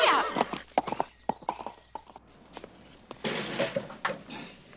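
Horse hooves clip-clop on a hard surface as the animal is ridden off, loud and close at first with a whinny, the uneven beats continuing over faint background talk.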